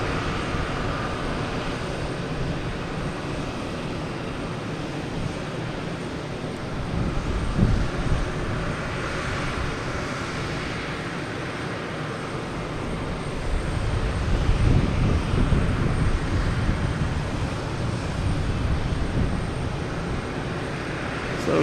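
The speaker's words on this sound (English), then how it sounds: "Boeing 777 coming in from London, Heathrow." A Boeing 777 arriving at Logan Airport from London Heathrow roars steadily for over twenty seconds, a broad jet rumble that swells around the middle and again toward the end, heard from a distance with no voices.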